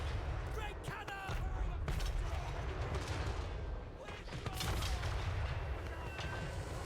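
Great cannon artillery fire in Total War Warhammer III, heavy booming shots with sharp cracking volleys scattered across a dense, continuous battle din.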